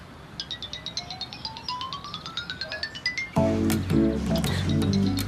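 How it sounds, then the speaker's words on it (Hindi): A phone ringtone chimes in a rising run of bright repeated tones, then gives way to a louder, fuller ringing melody that carries on to the end. "मुराद का फोन आ रहा है।"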